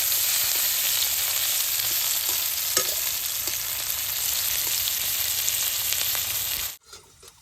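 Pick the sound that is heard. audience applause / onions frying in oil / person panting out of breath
onions frying in oil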